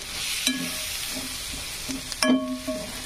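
Onion fries in a pan and is stirred, a quiet sizzle broken by a couple of sharp metallic scrapes and clinks of the utensil against the pan.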